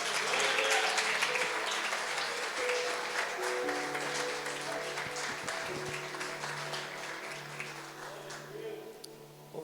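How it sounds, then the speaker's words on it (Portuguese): A church congregation applauding during a service, sustained clapping that slowly tapers off, with faint voices and sustained tones mixed in beneath. "A igreja pode aplaudir o nome do Senhor?"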